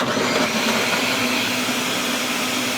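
A kitchen blender whirs steadily and loudly, blending bananas with puree for homemade ice cream, a continuous dense motor roar with no speech.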